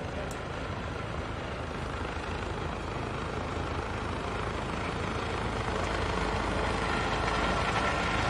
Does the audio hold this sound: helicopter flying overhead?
yes